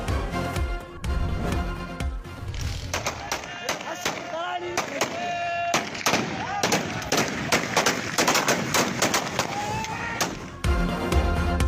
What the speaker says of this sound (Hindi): बदीन में पोलिंग स्टेशन पर हवाई फायरिंग, मुसल्लह अफराद फरार हो गए।